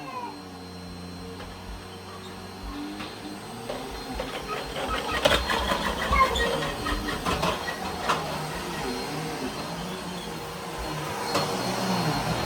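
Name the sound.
vacuum cleaner cleaning a couch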